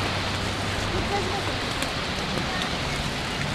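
Rain falls at the Plitvice Lakes in Croatia, a dense and fairly loud outdoor hiss that stays steady throughout.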